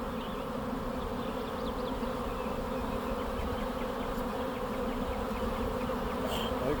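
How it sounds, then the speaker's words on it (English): A swarm of honeybees buzzes steadily at a swarm trap, a dense, continuous drone that stays loud and unbroken throughout with no voices. "I didn't have to leave home to catch a swarm in a swarm trap."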